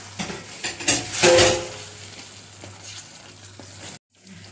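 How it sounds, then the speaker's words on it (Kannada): Prawns coated in masala fry in ghee with a steady close sizzle, brief louder bursts as they are stirred in the pan, then a short pause before the sizzling resumes. "ಇದನ್ನಿನ್ನು ನಾವು ಅದರಲ್ಲೇ ಫ್ರೈ ಮಾಡುವ"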